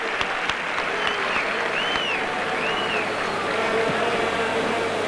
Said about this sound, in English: And the crowd even applauding a fine piece of play by a visiting player